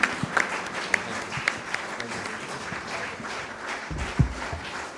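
A gathered audience gives a steady, full round of applause for Arshad Nadeem, the national hero being honoured, with many hands clapping evenly throughout, a few sharper claps and a low thump near the end.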